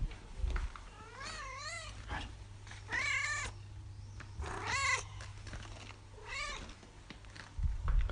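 A house cat meows repeatedly as someone walks up close to her, several drawn-out, wavering meows spaced across the moment, near and clear against a low steady hum, with no talk.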